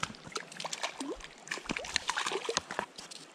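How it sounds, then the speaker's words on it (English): A trout thrashes in a landing net at the water's surface, making a quick series of close, sharp splashes and sloshes in irregular bursts, with a voice heard faintly between them. "Don't you splash me, you little sucker, you."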